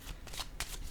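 A deck of playing cards is shuffled close by, with a few quick riffling bursts and soft flutters separated by short pauses.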